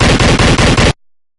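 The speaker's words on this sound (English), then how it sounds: "Shoot him!" Rapid bursts of loud automatic gunfire in a zombie forest comic, three close volleys of machine-gun shots that cut off abruptly into silence.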